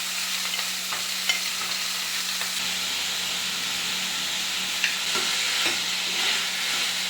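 Chopped onions frying in a pan as the base for chana masala, a steady hissing sizzle with scattered soft scrapes and taps of a spoon stirring.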